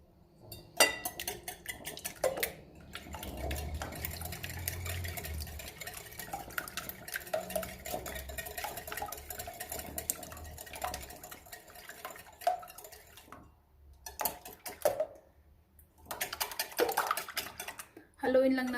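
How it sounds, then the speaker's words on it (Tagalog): Eggs whisked in a bowl for macarons, a utensil clinking and scraping against the sides in quick uneven bursts, broken by short pauses, with a person talking over it. "Haluin lang natin ng maigi yung egg."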